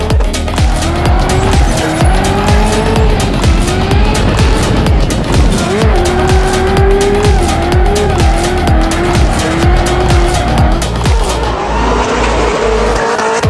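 A drift car being driven by a young UK drifter, engine revving hard with loud, sustained tire squeal and skidding throughout, close and continuous with no talk.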